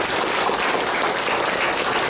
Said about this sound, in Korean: 힘찬 응원의 박수 한번 쳐주시면